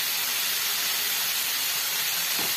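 Potatoes and cauliflower frying in oil over a high gas flame give a steady, dense hiss with a faint crackle throughout, close by and with no talking.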